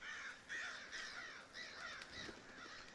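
Crows cawing in the woods of the game Darkwood, a run of harsh repeated caws at moderate distance, quiet overall and free of speech.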